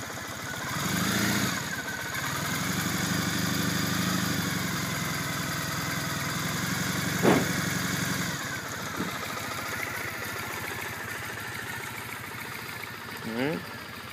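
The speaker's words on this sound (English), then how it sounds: "I'll bring the camera up close to the engine there so you guys can hear it a little bit better." A 2008 Triumph Bonneville T100 engine idles quietly through stock silencers, a steady low mechanical hum with a few brief louder rises, while someone talks over it.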